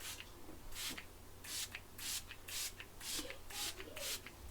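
Repeated short hissing sprays of a makeup setting spray, about eight quick bursts in a steady rhythm, close and fairly soft with no talking.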